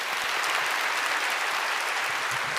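A church congregation at a Sunday service applauds to welcome a newly baptized family, a dense, steady wash of clapping from many hands filling the room.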